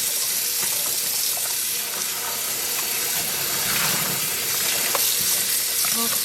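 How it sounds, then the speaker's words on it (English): A hand stained blue from an indigo dye vat is rinsed with soap under running tap water, giving a steady close hiss and splash with small spatters and no talk. "maybe coming and washing this would help me rinse off my hand as well"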